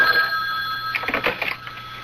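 Telephone ringing in a radio drama, a close, bright electronic trill that fades in and out in quick pulses for about two seconds, with no voices over it.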